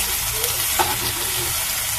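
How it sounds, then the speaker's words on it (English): Continuous close sizzle of bread toasting in margarine in a hot pan, a dense, steady frying hiss with faint crackles throughout. "the reason why I love toasting my bread with margarine is because you all know margarine goes well with bread"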